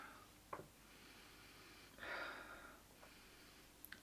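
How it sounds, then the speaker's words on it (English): A couple of quiet nasal sniffs of a beer, with a longer inhaling breath in the middle, close to the mic over a soft background hiss. "Okay, let's have a sniff."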